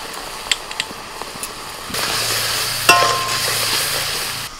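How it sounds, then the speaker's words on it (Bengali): Spice paste of salt, turmeric, coriander, cumin and Kashmiri chili powder sautéing in a pan, faint scraping stirs at first, then a steady close sizzle and frying hiss, with no talk. "মশলাটা একটু ভালো করে কষিয়ে নিয়েছি"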